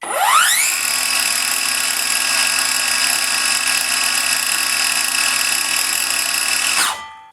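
A DrillPro BL-150 brushless cordless plunge saw spins up quickly to a loud, steady high-pitched whine. It runs evenly for about six seconds, free of any cut, then winds down.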